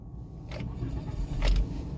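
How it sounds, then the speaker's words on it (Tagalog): An automatic car's engine cranks and starts while in neutral, a short rising burst of engine noise near the end over a low idle rumble, close and moderately loud. "I-start natin yung ating sasakyan."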